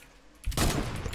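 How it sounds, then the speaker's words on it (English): Sniper rifle fire in a Fortnite battle royale match: a quiet lead-in, then a sudden loud burst of gunshots that stays dense and sustained to the end. "It's a sniper shootout."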